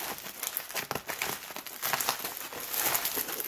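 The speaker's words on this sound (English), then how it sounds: "Get rid of the void fill there." Void fill packing material being pulled out of a cardboard box of shifter parts, giving continuous close crinkling and rustling for a few seconds with no talk.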